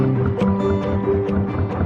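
The engine of the canal narrowboat Tench chugs steadily as it cranks along a river, a loud, close, rhythmic low throb with a faint steady hum and no talk.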